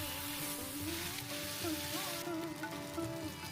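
Soaked sabudana, curry leaves and chilli are stirred in a hot oiled pan for sabudana pulao, a steady close sizzle with a faint high whistle-like tone running through it.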